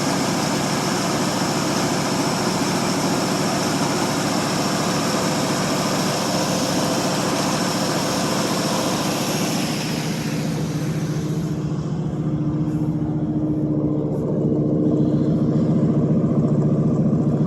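A 1952 Ford Customline flathead V8 on a cold start runs close by with a steady, throaty rumble through dual exhaust with glass packs, its higher hiss dropping away partway through while the low burble continues.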